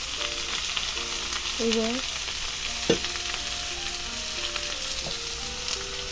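Pieces of ash gourd hit hot oil in a pan for a gourd and moong dal curry, raising a loud, steady sizzle that runs throughout, with a sharp spatter near the middle and a single short spoken word.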